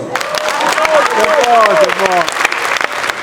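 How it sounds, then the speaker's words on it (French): An audience claps in scattered, uneven bursts while a loud voice speaks over the applause close to the microphone. "Qui applaudit ici? Moi, je fais mon coup d'état, tout le monde applaudit. Applaudissez."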